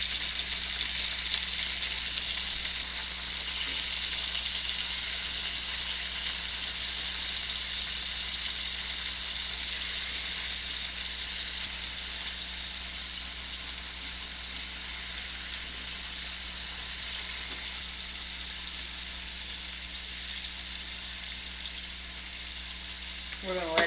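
Spinach and cream cheese stuffed chicken breast sizzles steadily in a pan over medium-low heat, a constant close frying hiss with no break and no voices for the whole stretch.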